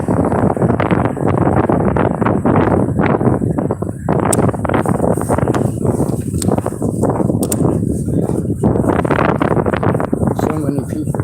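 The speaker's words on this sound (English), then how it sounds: "It's pretty windy, so you might not have heard everything he was saying." Strong wind buffets the microphone for the whole stretch, a constant loud rumbling roar with gusty surges that would drown out any speech.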